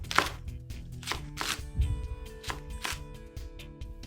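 Knife chopping through a fennel bulb on a cutting board, a series of crisp, evenly spaced cuts close up, some sharper thuds among softer strokes, with faint kitchen hum underneath.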